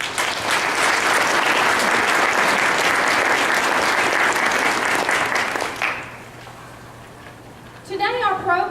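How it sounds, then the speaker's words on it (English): Audience applause at a middle school honor society induction ceremony: steady, loud clapping for about six seconds that stops abruptly, followed by quiet room tone and a brief voice at the end. "Join me in applauding the efforts of our members to be good community members, citizens, and students of higher character."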